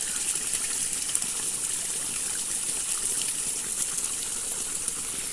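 Cold spring water trickling and gushing steadily from a natural spring, a continuous close, bright splashing flow with no voices.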